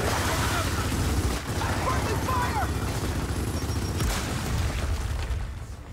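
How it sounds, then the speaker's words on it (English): A grenade blast in the video game Gears of War 4 booms loudly amid dense gunfire and explosions, with excited players talking over the noisy battle throughout. "Did you toss a grenade?"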